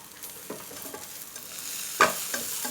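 Pork with shrimp paste and coriander being stir-fried in a pan, with soft sizzling under scraping stirs and a louder clatter of the utensil near the end.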